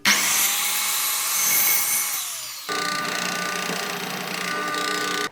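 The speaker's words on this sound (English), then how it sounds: "to drill a hole into a wooden dowel the same size as it is itself" A power drill whirs loudly as it bores a hole into a wooden dowel, its pitch shifting, then stops briefly before resuming with a steady high whine.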